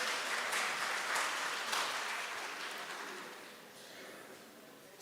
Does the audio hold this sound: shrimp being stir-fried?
no